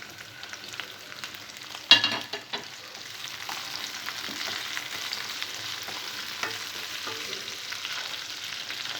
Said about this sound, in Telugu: ఉల్లిపాయ ముక్కలు కొద్దిగా ఫ్రై అయిన తర్వాత ఇందులో టమాటో ముక్కలు వేసుకోవాలి.